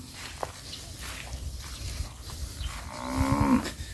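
Cattle moo loudly and fairly close on a Thai farm where a herd is grazed on open fields, a long low call rising near the end over soft outdoor background noise and shuffling.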